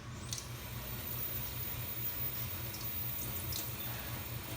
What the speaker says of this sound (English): We're going to start out with a 200 mesh screen and pre-wet the screen.